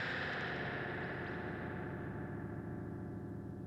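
A Fender Supersonic amp in the Deluxe Reverb style hits a studio floor, its spring reverb setting off a sustained, distorted, washy crash that rings on without letup for a few seconds.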